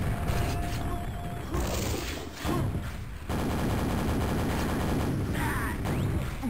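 Dense Quake duel gameplay with bursts of weapon fire and explosive impacts, including a rocket launch, loud and continuous with short dips between volleys.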